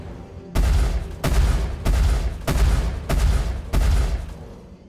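Spaceship guns in the Star Citizen game fire six loud, heavy bursts in a steady rhythm, each a booming blast that fades away at the end, with no voices.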